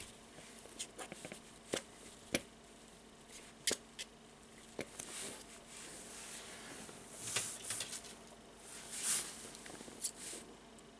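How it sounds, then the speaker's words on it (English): Scissors snipping thread while making a candy stripe bracelet, a few brief, close, soft cuts separated by quiet handling noises. "I will cut."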